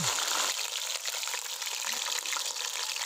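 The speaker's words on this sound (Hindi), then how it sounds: "ऑयल गर्म होते ही इसमें जाएगी आधा किलो के करीब कटी हुई अरवी" Chopped taro root (arvi) frying in hot oil in a wok over a medium flame, a steady bright hiss of sizzling that carries through the whole stretch with no talking.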